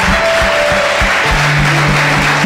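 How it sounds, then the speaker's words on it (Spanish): A church congregation claps during a sermon on building a healthy family, a loud, dense and steady round of applause filling the room, with sustained tones underneath. "Dele un aplauso a ese Jesús."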